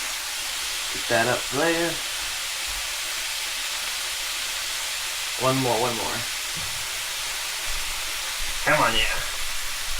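Breakfast burritos cooking on a stove, food frying with a constant loud sizzling hiss throughout as someone talks in short bursts over the sizzle.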